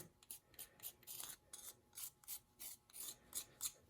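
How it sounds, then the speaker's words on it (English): A tool scraping wax off the top of a guitar single coil pickup, a quick run of short rasping strokes repeating about every third of a second, close and fairly quiet. "Then I'll just scrape the top, get the wax off, like that right there."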